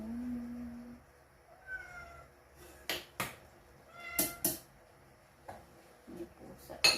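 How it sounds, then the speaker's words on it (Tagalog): A cat indoors lets out a couple of brief, thin meows amid loud knocks and clattering, with quiet stretches between the sounds. "May pusa dito."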